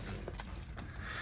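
Keys jingle briefly and close by as a car key slides into the ignition of a 1972 Chevrolet Chevelle, a quiet metallic rattle lasting about a second.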